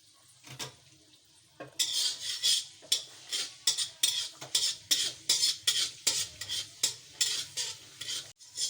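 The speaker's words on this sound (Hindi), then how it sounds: "मैं लहसुन डाल रही हूँ बारीक, तो थोड़ा सा हल्का कलर आने तक मैं भूनूंगी इसको।" Finely chopped garlic is sautéed in a home-kitchen pan, with a spatula scraping and stirring in a steady rhythm and light sizzling underneath. No one talks.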